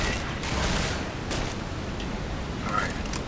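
Shotgun fire in the video game Left 4 Dead, loud dense blasts and booming gunfire packed together over steady game noise, with a player's voice audible.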